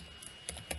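A command being typed on a computer keyboard, a few soft, quick key taps, close but faint, over a low steady hum.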